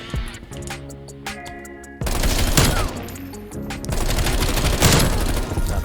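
Bullfrog SMG firing in Call of Duty Cold War, sustained rapid automatic bursts with loud crackling shots and game effects, growing denser and louder in the second half, no talking.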